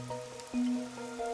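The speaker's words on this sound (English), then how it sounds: "The rain, it never stops." Steady rain falls in the Rain Code video game, a continuous wash under sustained musical tones, with no voices.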